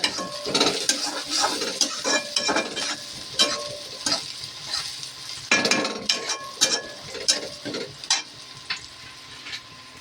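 Chopped tomato added to chillies frying in a pan, with a soft sizzle beneath irregular clinks and scrapes of a spoon stirring against the metal, close by and with no talking.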